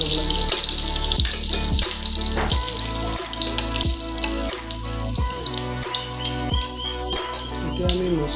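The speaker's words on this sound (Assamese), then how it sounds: "এতিয়া আমি দিম পাঁচফোৰণ মছলা দিম, লগতে তেজপাত দিম। তেজপাতটো অকণমান ফ্ৰাই কৰি ল'ব লাগিব।" Bay leaf and panch phoron spices sizzle in hot oil in a kitchen pan, a steady close crackle with repeated clinks and stirring knocks throughout.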